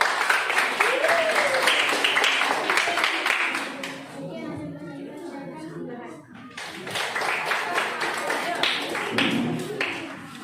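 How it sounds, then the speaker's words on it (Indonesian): A classroom of students claps for the class, rapid overlapping hand claps with children's voices mixed in, a short pause midway before the clapping resumes. "tepuk tangan untuk kelas"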